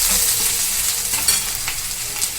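Onions frying with a pinch of salt in a pan for a Bengali egg curry give a steady, close sizzle with soft stirring scrapes, continuous and unbroken, with no talking.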